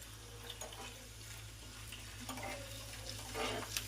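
Cashews and small coconut pieces frying in hot ghee for sweet pongal, a soft steady sizzle with occasional stirring clicks, close and continuous without voices.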